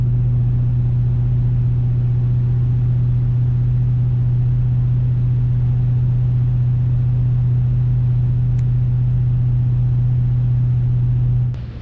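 A Trailblazer SS strapped to a dyno in a heated shop idles with a steady, loud, low engine drone that holds constant throughout and then cuts off abruptly at the end.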